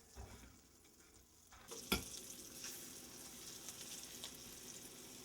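Veal schnitzel sautés in butter in a pan with a soft, steady sizzle, faint at first and rising after a sharp clatter near the two-second mark, then holding at a low hiss.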